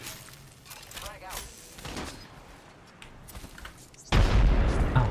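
Grenade explosion in the Apex Legends video game, a sudden loud boom that sustains after quieter gameplay sounds and chatter.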